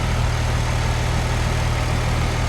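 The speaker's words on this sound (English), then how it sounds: "the engine's running, no abnormal noises" A 2006 Porsche 911 997 C4S with manual gearbox runs steadily at idle, its flat engine giving a close, continuous low rumble with an even pulsing beat and no other sounds.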